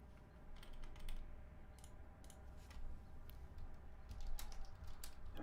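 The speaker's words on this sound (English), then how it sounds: "you'll hear some keyboard clacking" Computer keyboard clacking: quick, irregular runs of soft key taps, faint and somewhat distant, typing on and off over a low steady background hum.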